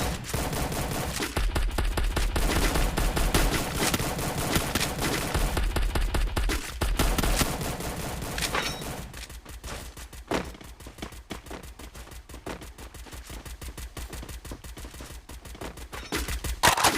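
Rapid gunfire from a video game battle, dense bursts of automatic shots in the first half, then sparser sharp individual shots and crackles, loud and continuous without talk.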